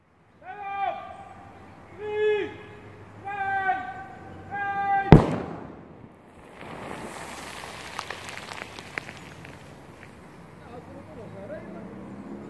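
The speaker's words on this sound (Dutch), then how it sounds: "daarachter om het hoekje wordt die letterlijk tot ontploffing gebracht" A mortar grenade recovered by magnet fishing is detonated by bomb disposal around a corner nearby. A single sharp blast follows several voiced calls and is then followed by a long rumbling, crackling tail.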